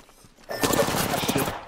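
Rapid automatic gunfire from the video game Apex Legends erupts after a quiet half-second lead-in, then holds as a loud, dense burst of shots to the end.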